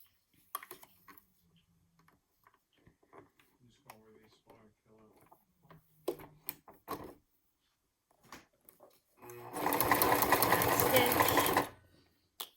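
A sewing machine runs in one loud, steady burst of stitching through a leather crossbody bag, preceded by scattered handling clicks and taps of the material.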